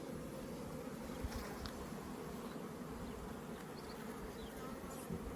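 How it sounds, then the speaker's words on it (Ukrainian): A dense, steady hum of many honeybees buzzing together inside a packed, crowded hive, close and continuous, with no voices. "бджоли тут дуже багато"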